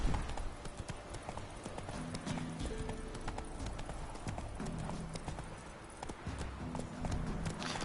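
Roach the horse galloping in The Witcher 3, a fast, steady clip-clop of hooves that continues throughout at close range.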